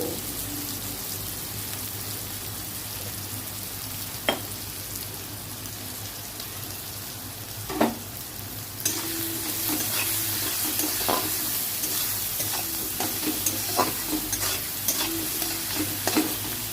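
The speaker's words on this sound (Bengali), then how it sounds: "পেঁয়াজটা একটু জাস্ট ভাজা হবে।" Onions with a pinch of salt frying in oil left from frying potatoes, a steady soft sizzle with occasional scrapes and clinks of stirring, growing livelier in the second half.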